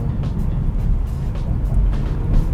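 A BMW M440i driving along a city road, with steady loud low road and engine rumble and tyre noise throughout a short stretch, no talk over it.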